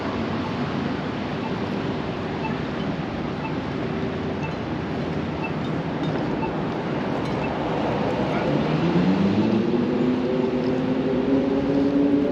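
Ambience at Denver's Union Station: a steady broad wash of background noise with a low, rising tonal drone near the end, like a train or engine passing.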